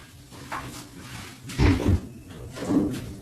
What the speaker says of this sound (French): je reviens vite fait, j'ouvre la porte au chat.